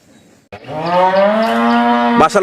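A large dairy cow, a big-uddered milking breed, gives one long, loud, close moo that swells after a brief quiet start and holds steady for about two seconds.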